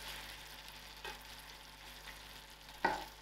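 Tomato curry for aloo gobi, cauliflower and potato, sizzles softly in a pan with a steady low crackle and one brief louder scrape of stirring near the end; no voices.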